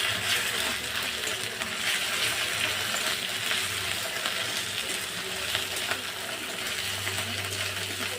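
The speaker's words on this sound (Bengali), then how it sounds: "আদা রসুনের পেস্টটা আমি একটু ভাজা ভাজা করে নেব" Ginger-garlic paste frying in oil with onion and green chilli for a bhetki fish curry, a steady loud sizzle filling the whole stretch with faint watery crackle and no talk.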